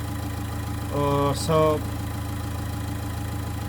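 A Nissan Note E12 with a 1.5 dCi diesel engine idles with a steady, low droning hum throughout, while someone speaks briefly over it.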